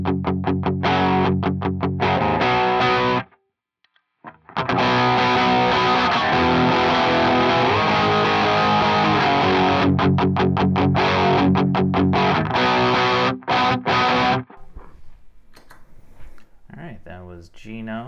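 An electric guitar played through a Marshall-style amp plugin with heavy distortion, loud chugging riffs and sustained chords, with a short silent gap and choppy stops near the end.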